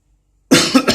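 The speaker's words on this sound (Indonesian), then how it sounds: "musim batuk" A single person coughs abruptly after silence, a close, loud burst with a second and third hacking pulse following within half a second.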